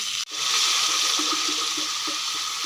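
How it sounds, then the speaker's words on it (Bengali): Water poured into a pan of frying onions and potatoes for a fish curry, a loud continuous rushing hiss that starts abruptly after a brief cut and holds steady, close by, with no voices. "এখন এর মধ্যে জল দিয়ে দেবো"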